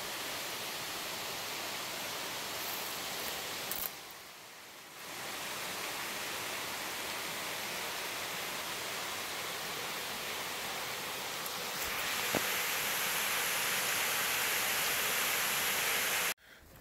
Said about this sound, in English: You can just hear water down there roaring everywhere